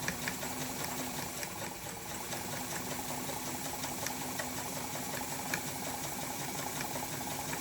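An Adler 87 leather sewing machine runs at a steady pace, a smooth, quiet mechanical whir with a faint regular ticking of the stitch mechanism throughout, close by and without talk.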